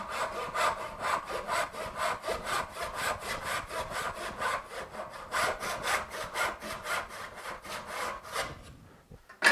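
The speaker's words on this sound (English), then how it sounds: "I've got plenty of depth under the back to complete this saw cut" A hand saw cutting wood in steady back-and-forth strokes, close and even in rhythm, about two strokes a second, stopping near the end.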